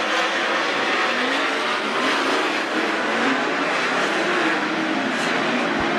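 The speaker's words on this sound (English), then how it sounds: "Side by side as they race to the white flag one more time around." Several 410 sprint cars roar around the dirt oval at Attica Raceway Park, a loud sustained engine drone filling the track without a break as the field races side by side.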